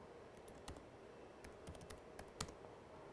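Login credentials tapped out on a computer keyboard, a quick irregular run of light key clicks, faint against a steady background hiss.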